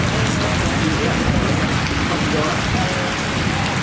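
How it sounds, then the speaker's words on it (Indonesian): Heavy rain pours down steadily, a dense, loud, continuous hiss and patter of drops drumming on a surface, with no pauses. "hujan parah banget"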